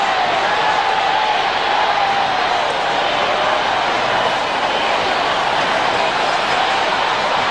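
A hostile cricket crowd chants in the stadium at a 1999 West Indies versus Australia match, a steady loud roar of massed voices filling the air with no breaks.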